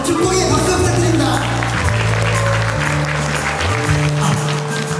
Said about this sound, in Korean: 다시 한번 축복의 박수 부탁드립니다